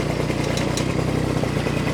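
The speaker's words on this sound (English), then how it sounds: "And I'm using a 12-inch auger, so I dig a pretty fair-sized hole." A tractor-mounted 12-inch auger digs fence post holes for a livestock enclosure, giving a steady, loud engine drone with clattering throughout and no pauses.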